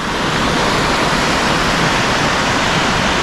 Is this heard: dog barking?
no